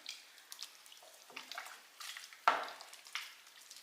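Heavy whipping cream being stirred into a pot of Zuppa Toscana soup, with soft intermittent spoon scrapes and gentle liquid sloshing, fairly quiet and close with a sharper clink midway.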